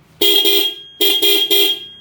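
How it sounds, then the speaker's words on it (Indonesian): A Honda CBR150 motorcycle's horn sounds loud and close: two short toots, a brief pause, then three quick toots in a row. "Oke, kita on, kita klakson."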